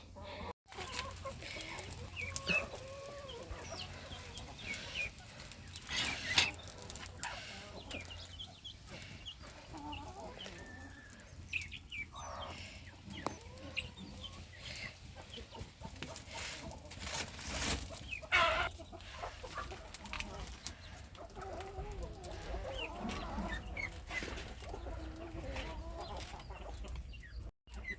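Country chickens cluck inside a coop for chicks, soft scattered clucks and murmurs from several birds close by, with occasional louder calls and faint rustling throughout.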